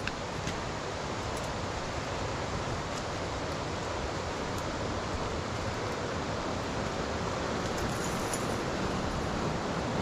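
High water on a river at Allensford Park rushing past in a steady, loud, unbroken roar with no voices, the flow filling the whole scene evenly from start to end.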